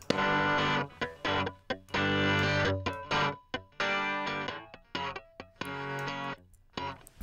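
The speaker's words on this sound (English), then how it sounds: "we've got just enough distortion on it" Electric guitar distorted heavily through the Airwindows MidAmp amp simulator plays chunky chords in short rhythmic bursts with brief pauses between, thick and saturated with no voices.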